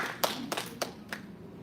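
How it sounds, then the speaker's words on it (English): A few scattered hand claps from the audience at a women's alliance panel event, four or five separate claps spaced out over a moment, fairly near and sparse rather than full applause. "Please give them a round of applause."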